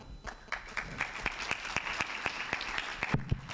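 An audience claps steadily for a few seconds after a presentation, the scattered claps forming a moderately loud, even patter with no talking.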